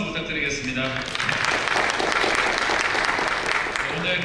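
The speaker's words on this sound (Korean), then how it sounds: "다시 한번 우리 관세사님께 큰 박수 부탁드리겠습니다" A seated audience at a bank economic outlook seminar gives a customs broker speaker a full round of applause, dense steady clapping that swells after a quieter start, with a voice briefly over it.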